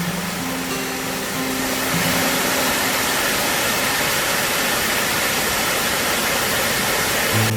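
A waterfall in a park beside the parking lot of Buseoksa, a Buddhist temple in Yeongju, Korea, with rising mist: a steady, loud broadband rush of falling water throughout, with a faint low hum early on.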